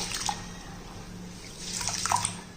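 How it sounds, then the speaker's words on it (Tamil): Pearl millet is kneaded and washed by hand in water for kambu koozh. Soft sloshing and splashing gently swell and fade, with a few small drips near the end. "கம்பை நல்லா நல்லா பிசைஞ்சு விட்டோம்னா கம்பில் உள்ள டஸ்ட்டுகள் பூரா நல்லா நம்மளுக்கு தண்ணியில் வந்துடும்"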